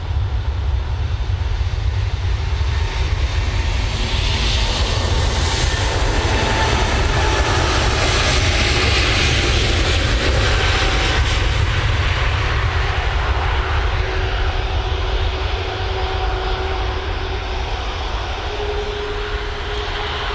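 An airliner takes off at Manchester Airport, its jet engines producing a loud, sustained roar that stays strong throughout with shifting tonal whines.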